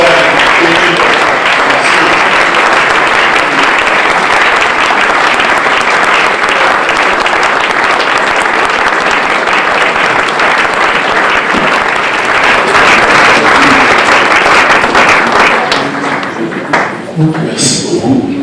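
Sustained, loud applause from a large audience at an evening church preaching service welcomes a pastor, steady dense clapping for about fifteen seconds before it thins and fades near the end.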